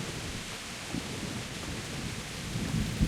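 Steady rain and rumbling thunder in the medieval game Kingdom Come: Deliverance, a dense continuous wash with low rolls swelling near the start and again at the end, no voices.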